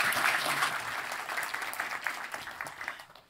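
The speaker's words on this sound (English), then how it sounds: "A warm applause for Jyri." A warm round of audience applause for Jyri at the Hanaholmen Initiative Summit 2023, steady close clapping that gradually tapers off toward the end.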